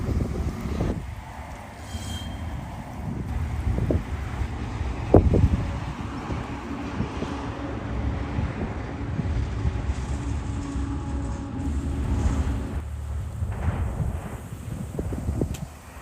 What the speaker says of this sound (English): The wind is an issue, right?